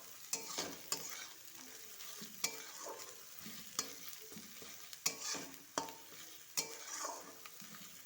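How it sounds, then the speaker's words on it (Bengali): Fried onions with ghee being stirred in a pan over a steady sizzle, with repeated sharp scraping strokes of a spoon at an irregular rhythm, close and fairly soft. "পেঁয়াজ ভাজার মধ্যে ঘি দিয়ে একটু নাড়াচাড়া করলে"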